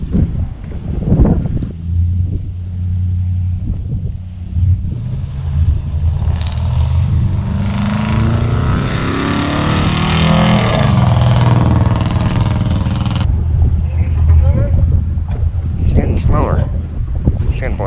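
A pickup truck circles nearby with its engine revving and rising and falling in a long sweeping pass, accompanied by wind buffeting the microphone and people talking over it.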